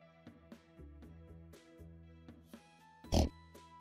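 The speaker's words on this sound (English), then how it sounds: "Buy another pig." Pig oinking in the farming game Stardew Valley, a string of short grunting oinks in an uneven rhythm, one louder snort near the end, fairly close over a quiet steady background.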